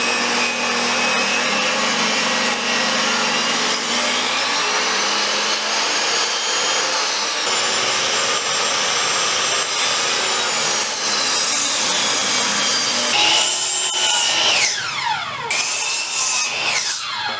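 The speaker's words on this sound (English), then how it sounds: "So now I've got to rip down some to the thinner thickness and make those." A power saw rips 2x4 wood pieces down to a thinner thickness for a vintage camper wall, a loud continuous whining cut that shifts pitch as the blade bites and eases off.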